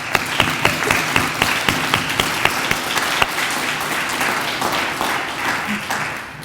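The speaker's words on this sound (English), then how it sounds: "please join me in a round of applause for the people that you want to celebrate" Audience applause at a Phi Theta Kappa honor society induction ceremony, a dense, steady wash of many hands clapping with sharp individual claps standing out, loud and sustained before slowly thinning toward the end.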